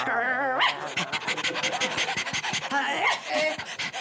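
A woman imitates a dog's panting in quick, breathy rhythmic bursts mixed with yips and whimpers, close up, with other voices chiming in during a playful contest.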